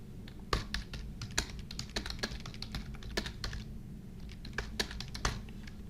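Computer keyboard being typed on to enter text into a yearbook design program, with soft, irregular key clicks in short bursts and pauses over a low background hum, fairly quiet and close.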